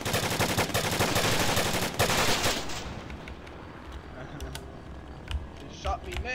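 Gunfire in the military video game Arma 3, a rapid burst of loud automatic shots for about three seconds, followed by quieter scattered sounds and people talking over game radio.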